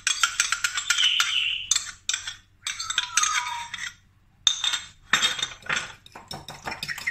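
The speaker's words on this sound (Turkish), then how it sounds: "Bu yumurtamı kırıyorum önce ve çırpıyorum" An egg is beaten in a bowl for a pan pizza dough, and a utensil clinks and scrapes against the dish in quick, uneven bursts with brief pauses between strokes, close and clear, with no talk.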